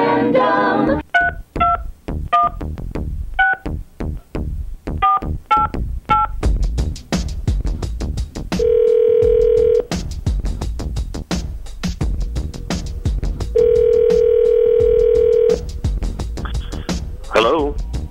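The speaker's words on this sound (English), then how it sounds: "Dialing at random." Touch-tone keypad dialing on a telephone, with a quick run of loud beeping DTMF tones followed by two long steady ringback tones as the call connects, close and clear.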